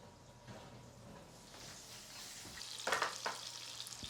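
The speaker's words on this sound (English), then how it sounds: "let me check on our salmon. All right, that skin is crispy." Salmon skin frying in a pan, a quiet crackling sizzle with soft scraping and stirring noises, growing a little louder and busier toward the end, close by with no talking.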